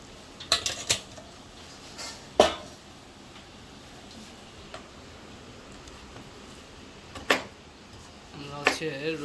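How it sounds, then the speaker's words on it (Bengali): Garlic finely chopped with a knife: sparse sharp knife taps on a board spaced out over several seconds, with a person talking in between. "আমরা হচ্ছে রসুন ছোট করে কুচি করে কেটে দিচ্ছি।"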